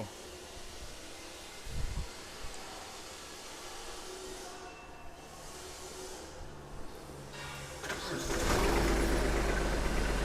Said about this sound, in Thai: อ่าตอนนี้เราติดเครื่องแล้วนะครับ